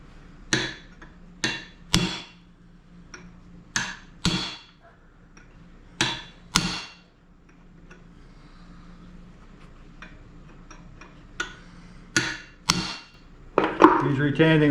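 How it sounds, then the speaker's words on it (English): A hammer strikes a cold chisel driven into the soft retaining collar on the rear axle of a 1966 Ford Mustang differential. Sharp metallic blows come in small clusters with quiet gaps, close and fairly loud, with a scrape of metal at the end. "Chisel into the collar in 3 or 4 locations, and it becomes loose enough to remove from the axle."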